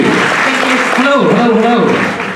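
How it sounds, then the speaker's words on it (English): A live comedy audience claps in sustained applause, the sound dense and close, while a voice talks over it. "that's a round of applause right there."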